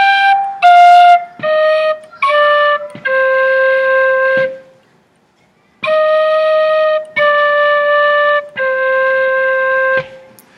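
A penny whistle plays a slow first phrase in time, a sequence of short and long sustained notes with one clear pause in the middle, close and bright with no voices.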